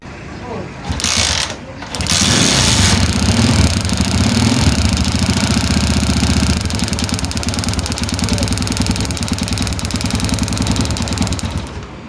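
A motorcycle with a starting-current wiring fault is kick-started, a short mechanical clunk followed by the engine catching and running steadily and loudly nearby until it cuts off at the end.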